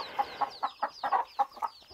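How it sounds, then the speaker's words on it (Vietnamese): A flock of chickens, including hens, at a remote old Hmong village, clucking in a steady run of short, close calls at moderate loudness, with no talk. "Ở đây thì mọi người thấy là có hai cái đàn gà này."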